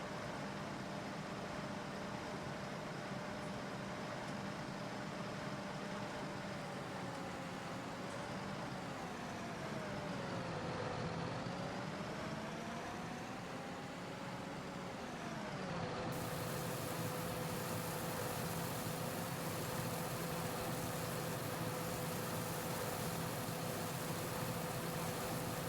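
A John Deere tractor pulling a trailer drives in Farming Simulator 19, its engine a steady droning hum that dips and rises in pitch midway before settling into a constant tone, with no speech over it.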